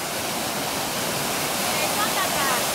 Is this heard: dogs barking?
no